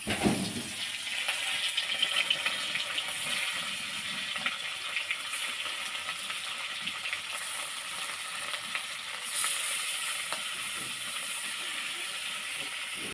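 Oil hits a hot pan for cooking eggplant and sends up a steady, close sizzle and hiss that holds for the whole stretch, swelling briefly near the end, with no talk.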